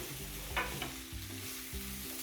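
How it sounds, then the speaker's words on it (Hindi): Shredded chicken and vegetables frying in a pan over a high flame for chicken soup: a steady, close sizzle runs throughout, with a couple of brief stirring scrapes. "इसको भी हम 2-3 मिनट अच्छे से मज़ीद फ्राई कर लेंगे।"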